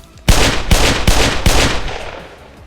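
Four heavy gunshots in the game Ancient Warfare 3, spaced roughly half a second apart, loud and close, each with a booming tail that fades out after the last shot.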